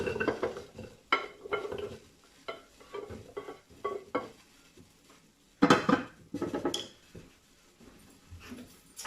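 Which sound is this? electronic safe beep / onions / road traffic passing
onions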